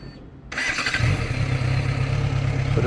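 A Yamaha XR6 motorcycle, ready for a category A licence route in Klaipėda, cranks briefly and then fires up, settling into a close, steady idle rumble that runs to the end.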